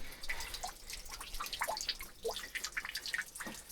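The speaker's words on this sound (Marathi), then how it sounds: "इथं बघा पाणी कसं झिरपत आहे" Water seeps and drips from rock on the trek at Gadgada Fort in Maharashtra: a steady scatter of small, close drips and trickles with no voices.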